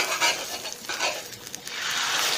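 Egg frying on an iron dosa pan, a steady close crackling sizzle with soft scraping touches over a brief stretch.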